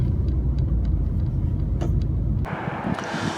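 A 2020 Honda CR-V EX cruises at steady speed, a constant low road and engine rumble heard from inside the cabin, the noise dropping abruptly near the end.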